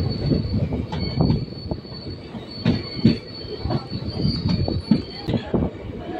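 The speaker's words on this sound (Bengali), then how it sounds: "কাটোয়া জংশন থেকে ট্রেন ছাড়ার পরে প্রথম স্টেশন আসবে নবগ্রাম কাকুরহাটি হল্ট।" Train pulling out of Katwa Junction in West Bengal, with loud, near, continuous rumble and rattling wheels, a thin high wheel squeal running through and repeated clanks from the cars.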